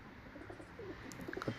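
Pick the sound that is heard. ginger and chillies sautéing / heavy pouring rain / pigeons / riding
pigeons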